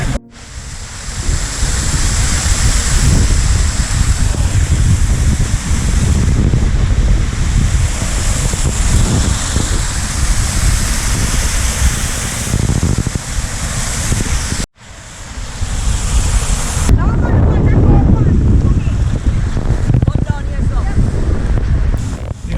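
Tacky Falls waterfall in St. Mary, Jamaica, pours with a loud, continuous broadband roar of rushing water mixed with wind buffeting the microphone, and people talk over it.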